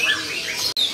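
Caged songbirds at a bird market kiosk give quick bright chirps and tweets, several short calls close by with a brief gap near the end.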